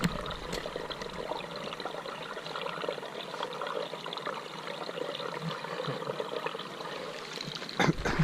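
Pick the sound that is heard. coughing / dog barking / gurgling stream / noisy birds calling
gurgling stream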